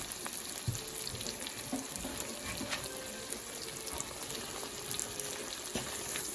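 Hash browns and seasoning cook in bacon grease, a faint, steady sizzle and crackle with occasional soft clicks and no talking.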